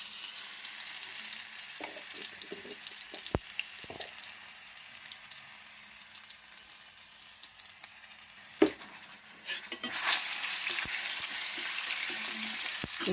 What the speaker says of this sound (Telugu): ముందు అల్లం వెల్లుల్లి పేస్ట్ వేసుకోవాలండి.